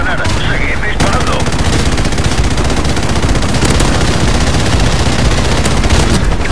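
Dense, rapid automatic gunfire and shots fill a Call of Duty Modern Warfare firefight, loud and continuous from start to finish, with a brief voice near the beginning.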